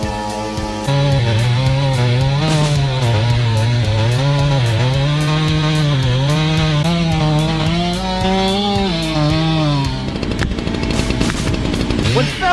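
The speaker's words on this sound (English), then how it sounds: "The woodcutter is sawing wood under the canal." A big chainsaw cuts wood under a canal stream. Its engine drones loud and steady while the pitch wavers as it bites, then breaks into rougher, noisier cutting in the last couple of seconds.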